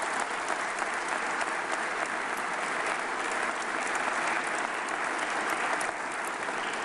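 Steady, dense applause from a large audience at a 2022 State of the State address, loud and continuous throughout with no pauses or voices standing out.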